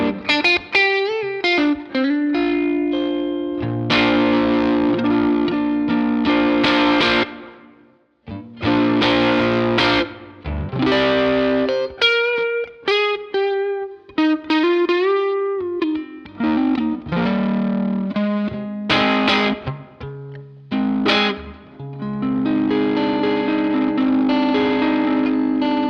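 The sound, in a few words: electric guitar through Twin Boost pedal, overdriven amp tone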